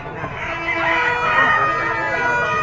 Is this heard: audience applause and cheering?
no